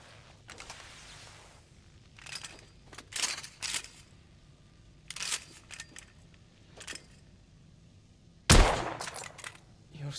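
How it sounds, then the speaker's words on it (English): Scoped rifle fire in The Order: 1886 plays as several separate sharp reports spaced out over time with quieter gaps, the last shot loudest and closest, followed by a decaying tail. "I've outfitted this one with a telescopic sight. It's ideal for long-range shooting."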